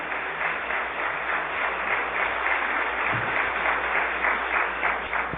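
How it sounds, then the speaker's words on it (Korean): Steady, dense applause from a large church congregation fills the space, sustained clapping with no pauses throughout. "이 대목에서 박수 치는 거야"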